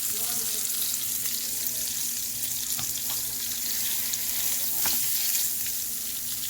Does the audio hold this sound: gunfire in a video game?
no